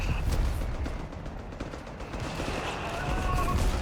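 Sustained rattling machine gun fire sounds in the strategy game Company of Heroes 3, a dense, continuous battle barrage with rumbling low-end and steady bursts throughout, fairly distant and moderately quiet.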